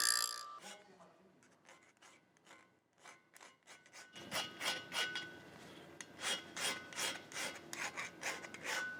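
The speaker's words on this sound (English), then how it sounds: "We'll go through and deburr any sharp edges using a hand file on the main cap registers and the main bearing saddles." A hand file rasps over the edges of a classic Camaro engine block's main cap registers and bearing saddles, starting with sparse light scrapes and then settling into a steady run of rhythmic strokes, while someone talks over it.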